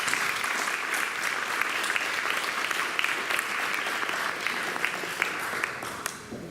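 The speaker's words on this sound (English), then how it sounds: "So let's just give them a round of applause" An audience applauds in recognition at a debate event, dense sustained clapping from many hands filling the room evenly for several seconds, then thinning toward the end.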